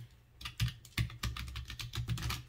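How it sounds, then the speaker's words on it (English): Typing on a Keychron K3 keyboard, a run of crisp, close key clicks and clacks in an irregular rhythm, loud and alone with no voices. "Nice little clickety clack for you guys. You can kind of see how it's gonna sound when you're typing on it."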